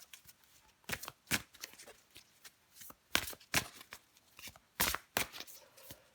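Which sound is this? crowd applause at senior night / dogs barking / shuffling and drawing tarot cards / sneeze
shuffling and drawing tarot cards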